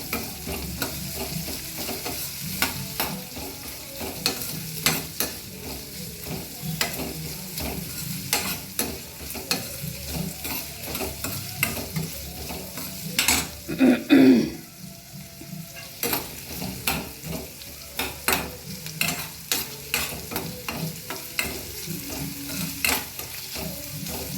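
Upma fries in a pan with onions under a steady sizzle, while a spoon scrapes and stirs in a constant run of clicks and rattles, close and without talk.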